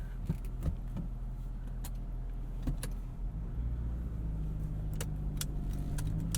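A 2006 Acura RSX Type-S with a manual gearbox runs on the open road, its steady low engine and road drone continuous throughout, with a few light clicks and knocks from the cabin.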